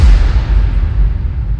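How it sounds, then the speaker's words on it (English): A cinematic sub hit from a free trailer sample pack: a deep, loud, sustained low-end boom with rumbling decay, heavy and alone. "Boom, you got this awesome sub hit here"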